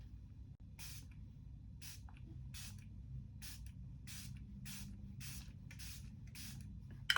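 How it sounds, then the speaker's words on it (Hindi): Mask Fit makeup fixer setting spray misted onto a face, about ten short, crisp spritzes in a steady rhythm, close and quiet over a low background hum, with no talking. "सेटिंग स्प्रे मैं यूज़ कर रही हूँ टेटेड का मास्क फिट मेकअप फिक्सर"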